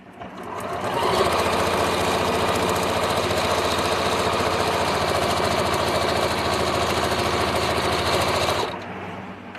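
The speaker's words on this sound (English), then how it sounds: "And then we'll sew this." A sewing machine runs a long quilt seam in one continuous, loud, close whir lasting several seconds, starting and stopping cleanly.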